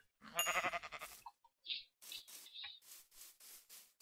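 A Minecraft sheep bleats in short wavering cries amid quick rhythmic game sounds, with a burst of rapid repeated clicks at the start and evenly spaced bursts of footsteps-like noise after, moderately loud with no talking.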